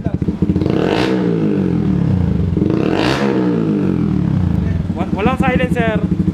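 An unsilenced Yamaha R15 motorcycle revs hard up close, two big swelling throttle blasts over a raw idle, then a choppy series of quick revs at the end.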